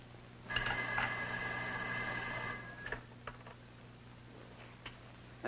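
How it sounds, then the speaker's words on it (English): A telephone bell rings once in a quiet house, a clear burst of about two seconds, followed by faint ticks and small room sounds in near silence. "Ruth, don't you hear the phone?"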